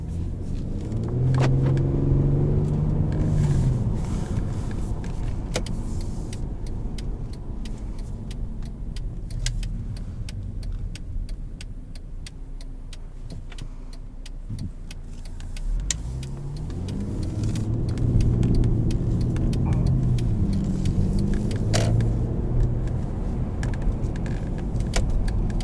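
A 2014 Mercedes-Benz C300 in Sport mode drives with a steady low engine and road rumble from inside the cabin, swelling around the start and again later as it pulls harder, with a few faint clicks and jingles.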